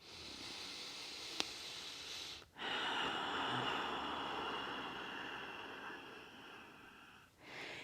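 Slow, deep yoga breaths, one long airy exhale or inhale of several seconds, soft and close, bracketed by brief pauses, with no speech.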